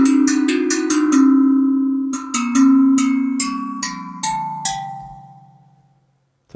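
Mallet rear articulation on the Tangent Drum virtual instrument: a quick series of metallic, bell-like struck tones at varying pitches, each ringing out and fading, solo with no voices.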